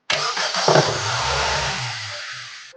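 A car engine cranks and catches, then settles into a steady idle during an AC gas refilling job, loud and close with no talking.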